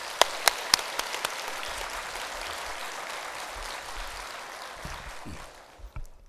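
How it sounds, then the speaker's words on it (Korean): Church congregation applauding after an Easter Sunday cantata, a few sharp claps opening into sustained crowd clapping that gradually thins and fades out. "뜨거운 박수 부탁드립니다."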